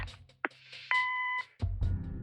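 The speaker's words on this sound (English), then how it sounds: "Leave a message after the beep." An answering machine in the video game Kathy Rain gives a steady electronic beep for about half a second among soft clicks and thuds, followed by a low rumbling bump.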